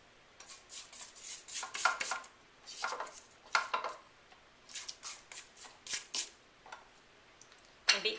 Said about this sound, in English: I'm going to scrape this down.